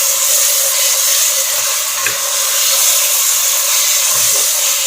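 Mint leaves frying in egg biryani gravy, a steady close hissing sizzle with faint soft scrapes of light stirring now and then.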